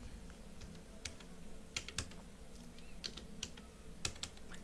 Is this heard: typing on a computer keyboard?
yes